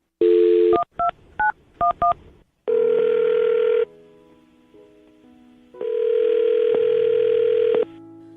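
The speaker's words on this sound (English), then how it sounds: "I'm going to dial his phone number right now" Telephone touch-tone beeps in a quick series of short pulses, framed by long steady dial-tone stretches before and after, clear and close.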